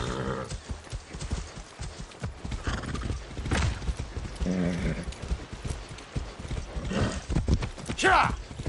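Horse hooves clip-clopping and a horse neighing in the video game Far Cry, close and fairly loud, with a sharp whinny near the end and someone talking in between.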